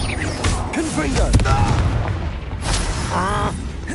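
Booming blasts from the fire-based Confringo spell in Hogwarts Legacy, dull explosive thuds mixed into busy combat noise, with voices and spell chatter sounding over them.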